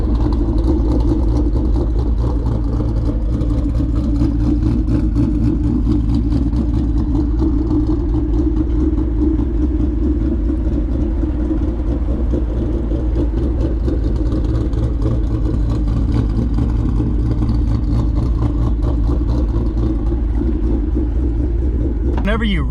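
Mustang GT 5.0 fitted with a ghost cam and Lund Racing tune idles steadily up close, a deep continuous rumble with a choppy lope throughout and no pauses.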